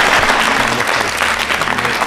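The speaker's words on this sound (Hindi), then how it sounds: "तालियां बजाइए इस जानकारी के लिए" Audience at a state-round election quiz show claps together, a dense, loud burst of applause filling the whole moment, with a low voice faintly present beneath.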